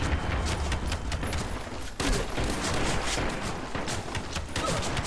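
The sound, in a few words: shotgun fire in the video game Metro Conflict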